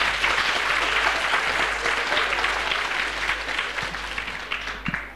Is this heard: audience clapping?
yes